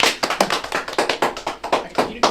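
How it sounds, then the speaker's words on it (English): A small group claps for PB John on a Chocolate Walk street outing, sparse and uneven with distinct individual hand claps in a loose rhythm, fairly close, with a hint of voices. "Give him a round of applause."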